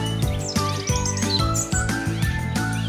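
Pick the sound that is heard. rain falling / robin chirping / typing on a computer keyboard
robin chirping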